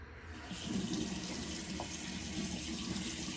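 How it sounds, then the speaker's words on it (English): Faucet water runs steadily into a sink during an evening skin care routine, a continuous close splashing rush that stays even throughout with no talking. "So let's turn on the faucet."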